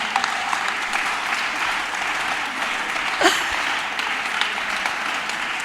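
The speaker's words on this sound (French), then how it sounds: "Est-ce qu'on peut acclamer pour le pasteur?" Applause for a pastor at a youth debate gathering: a steady, dense wash of clapping from an audience, sustained and fairly loud throughout, with a brief louder moment near the middle.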